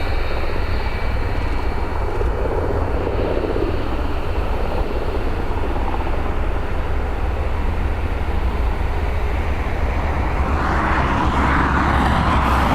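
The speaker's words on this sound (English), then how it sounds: "I can hear a helicopter as well." A rescue helicopter lifts off at Dublin Airport, its loud, steady rotor and engine roar filling the whole stretch with a constant, close, heavy drone and no talking.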